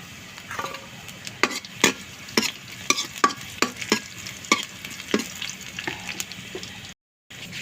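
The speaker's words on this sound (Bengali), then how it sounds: "পেঁয়াজ ভাজা হচ্ছে এখন" Onion and garlic with whole cumin frying in oil in a pan, a soft steady sizzle punctuated by repeated sharp scrapes and taps of a stirring spoon, close and with no talking.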